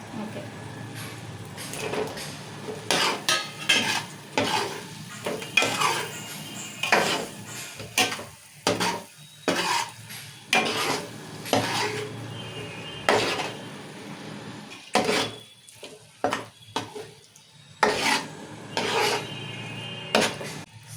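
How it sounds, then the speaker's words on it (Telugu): Boiled eggs being tossed through masala in a pan for egg biryani, with repeated scraping and clinking strokes of a spatula against metal and soft frying underneath, while a person talks between the stirs. "మన ఎగ్స్ కూడా మొత్తం మంచిగా మసాలా అంతా పట్టేట్టు కలిపేసుకోవాలి"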